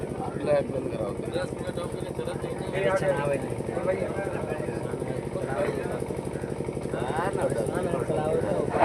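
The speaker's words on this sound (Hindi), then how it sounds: "चल गया ट्रैक्टर चल गया" A tractor engine runs in a steady, chugging idle throughout a village nautanki stage performance, loud and continuous, with voices speaking over it.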